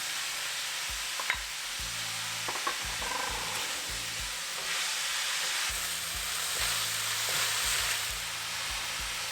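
Cauliflower and green beans dropped into a hot oiled kadai for Indian mixed vegetables, giving a steady close sizzle and hiss with irregular stirring scrapes and clatter throughout, no voices.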